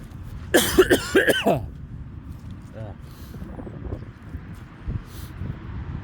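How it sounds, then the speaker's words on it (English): A short burst of several harsh, close coughs, followed by quieter outdoor rustling and faint background noise. "I just had a coughing fit"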